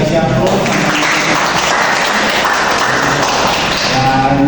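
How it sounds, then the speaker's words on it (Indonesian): Students in a classroom clap together in a loud, sustained round of applause, a dense patter of many hands that runs from start to finish, with voices mixed in beneath it. "bisa kasih aplaus"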